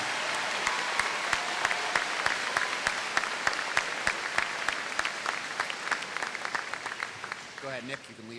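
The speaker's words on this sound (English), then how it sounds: "Big round of applause for our top 10 GPA students." Applause from the audience at a middle school 8th grade promotion ceremony, a thick crowd of clapping with some sharper individual claps standing out, thinning near the end as a voice begins speaking.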